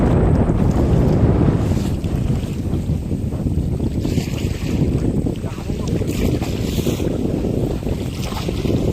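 Strong storm wind roaring beside a dense jungle creek at Marichjhapi at the start of the monsoon, a loud continuous buffeting rush with heavy wind noise on the microphone throughout.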